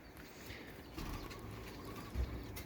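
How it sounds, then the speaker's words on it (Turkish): Turtle doves in a backyard hobby aviary coo softly amid a low, steady outdoor background, the calls faint and intermittent rather than prominent. "Hemen sağımızda kumrularımız var."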